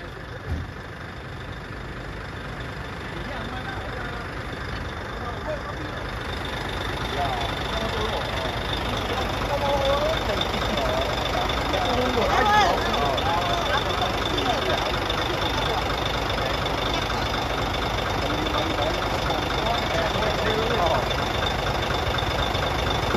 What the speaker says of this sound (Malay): Jaga-jaga motor.